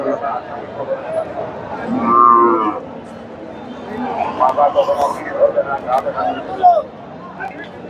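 Friesian cows low loudly at close range at a cattle market, one long moo standing out, amid a busy crowd of voices and general market chatter.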